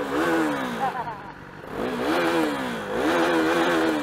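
BMW S1000RR motorcycle engine riding through city traffic in Hyderabad, revving up in repeated rising sweeps with a brief dip between, loud and close.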